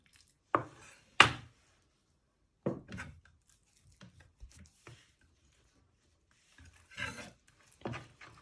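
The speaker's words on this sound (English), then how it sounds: "you just want to slice it and slice all your meat up" A sharp knife cuts lamb meat for a pie on a board, giving a series of separate crisp chopping thuds with quieter rubbing strokes between them, close and clear.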